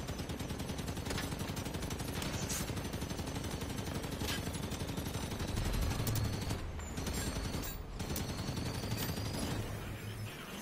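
Rapid automatic gunfire in the video game Halo 5: Guardians, dense sustained bursts with heavy booming shots, loud and continuous throughout with brief gaps.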